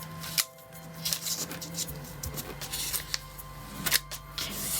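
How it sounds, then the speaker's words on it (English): Paper folded for an origami wreath gives off crisp, close crinkles and rustles with several sharper snaps as creases are pressed, in irregular bursts over a quiet hum. "And then we'll fold in this other corner also into the middle."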